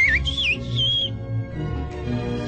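A person whistles a short, wavering tune of rising and falling notes over a low background hum, fairly close and clear.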